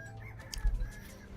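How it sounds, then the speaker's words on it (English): Chicken in the video game Vintage Story gives a short burst of clucks, a few quick soft calls over a low background hum. "I hear a chicken."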